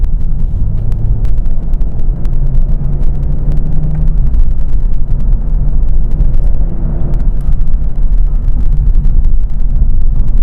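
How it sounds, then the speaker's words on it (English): A BMW 840i coupe with a turbocharged B58 inline-six pulls hard under boost, giving a steady, loud, deep engine drone and rumble heard from inside the cabin with no talking. "The power just comes on heavily. The turbo kicks in and you're off."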